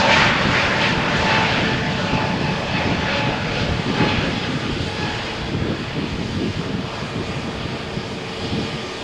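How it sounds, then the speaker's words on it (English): A Vueling jet airliner makes a rolling takeoff on a stormy morning at Malaga Airport, runway 13, its engines a loud sustained roar close by, holding strong without pause and with no voices. "So let's have a focus on Vueling flight. As I said, this is immediate takeoff, or we called it in the earlier days rolling takeoff"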